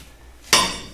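A single sharp metallic clank rings out as a Morse taper drill bit is knocked firmly into the spindle of a vintage Canedy-Otto No. 36 camel-back drill press, after a quiet moment.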